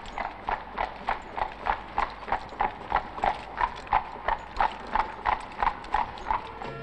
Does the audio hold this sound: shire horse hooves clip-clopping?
yes